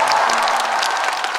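A crowd applauds at an outdoor orchestra concert at a star-night festival in South Korea, in a dense, even burst of clapping that fills the short moment.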